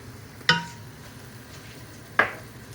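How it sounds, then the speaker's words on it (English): Tomato paste is stirred into softened garlic and shallots in a pot, with a faint sizzle underneath and two distinct scraping clunks of a utensil against the pot. "Just stir that around in there."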